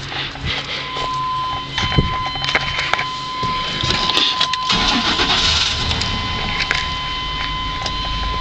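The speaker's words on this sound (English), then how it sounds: "I'm going to go ahead and fire the truck up now so you can hear her run." A 1998 GMC K1500 Z71 extended cab pickup starts with a brief crank, then settles into a loud, steady idle close by, with a faint whine over the rumble.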